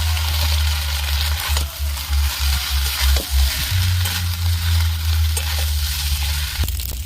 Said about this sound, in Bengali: তারপরে আঁচটা একটু কমিয়ে ম্যাগিটা তেলের মধ্যে দিয়ে দিতে হবে।